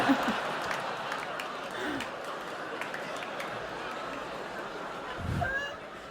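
Applause from a comedy show audience, a broad wash of clapping heard somewhat distant and steady, with a brief low voice or laugh near the end.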